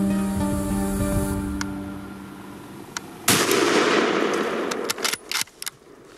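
A single sharp rifle shot fired at a young wild boar during a hunt cracks out loud and close, following a sustained musical tone and leaving a brief rumbling tail.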